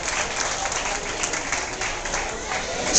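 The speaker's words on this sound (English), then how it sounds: "He's got a cheering section here." Party guests at a VIP harvest party cheer and applaud together, a steady wash of clapping and crowd noise that holds at even loudness for a few seconds and swells slightly at the end, with voices mixed in.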